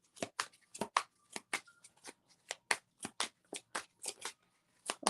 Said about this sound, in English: Let me pull one more card just to verify that.